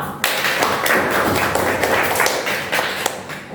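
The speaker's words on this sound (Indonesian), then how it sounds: "Kita beri tepuk tangan kepada kita semua" A school class claps hands together in a room, a loud continuous burst of mixed claps and taps from a group, close and alone without speech.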